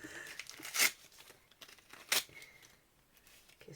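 A gift package is torn open at the side in two short, sharp rips about a second apart, with soft paper crinkling between them. The sounds are close and quiet in an otherwise calm room, and nobody talks.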